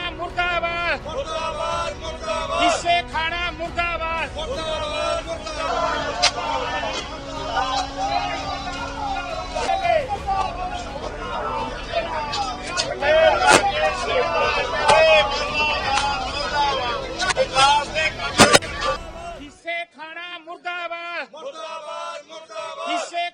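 Protest crowd gathered outside the legislative assembly in Punjab, a dense babble of many voices with raised chanting and shouts running continuously, loud and close, before cutting to quieter talk near the end.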